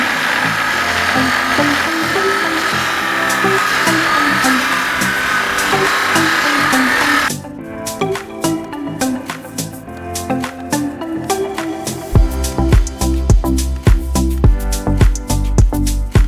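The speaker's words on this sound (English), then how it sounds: "time to grind" A power grinder cuts and grinds metal parts while building a high tunnel from recycled trampolines, throwing sparks; a loud steady whine runs for about seven seconds, then gives way to sharp knocks and a heavy rhythmic thump.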